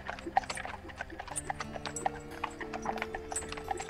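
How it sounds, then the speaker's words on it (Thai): Horse hooves clatter on the stone ground of a palace forecourt outdoors, a busy, uneven clip-clop of many close, crisp hoofbeats running steadily throughout with no voices. "เสียงฝีเท้าม้าภายนอกกระทบพื้นหินหน้าพระลานหน้าพระตำหนักดังสับสน"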